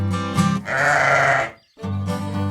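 A sheep bleats loudly and close by in several wavering calls, with a brief pause of silence before the final bleat.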